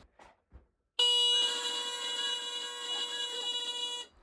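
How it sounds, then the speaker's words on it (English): A horn toots in a cozy trailer as a millimeter-wave presence detector and smart switch trigger it, one loud, steady, sustained tone lasting about three seconds after a few faint knocks. "So if presence is detected, toot the horn for 1 second."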